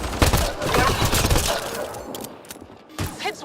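Bursts of video game gunfire from Mass Effect Andromeda, loud rattling shots clustered in the first second and a half, then sparser, fainter shots and impacts mixed with battle noise.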